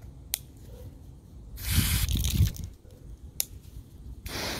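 A spray bottle mists a garden plant in a couple of close hissing bursts, one longer pair in the middle and another at the end, with small clicks of the trigger between them.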